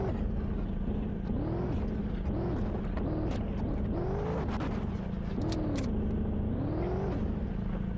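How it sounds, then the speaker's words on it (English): A truck in the zombie survival video game Zed Zone drives along while its engine revs up and falls back several times as gears change, a steady mid-loud motor hum with repeated rising whines. "Really do like the sounds of the truck as I shift gears or whatnot"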